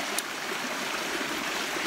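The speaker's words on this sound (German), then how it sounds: "ich sitze hier wirklich im Bach" A shallow, nearly dry forest stream trickles in a soft continuous babble close by, quiet and steady with one tiny tap near the start and no talking.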